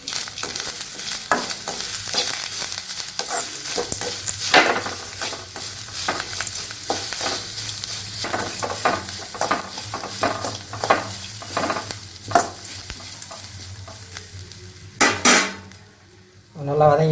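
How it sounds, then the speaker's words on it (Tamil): Grated coconut and masala are sautéed for banana kola urundai, with a spatula clattering and scraping repeatedly against the pan over a constant sizzle. Sharper knocks come near the end, then a short quiet gap. "நல்லா வதக்கிக்கிறோம்."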